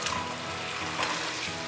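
Seasonings and soy sauce with a splash of water, then mushrooms, stir-fry in a hot pan, making a steady, close sizzle throughout with soft scraping stirs.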